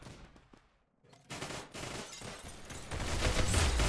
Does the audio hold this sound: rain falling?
no